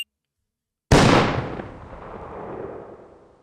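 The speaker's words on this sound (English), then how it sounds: "You could shoot yourself in this game." A single loud gunshot from the video game Therapist: Mind Manager bursts suddenly after silence and decays in a long echoing tail.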